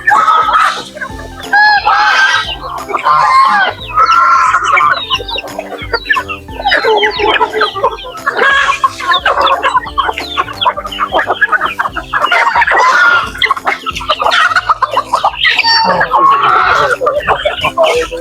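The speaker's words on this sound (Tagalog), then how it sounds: "Marami na tayong inahin mga idol." Native chickens on a farm, a flock of hens and young pullets, clucking and calling repeatedly throughout, fairly close and busy, with occasional crowing mixed in.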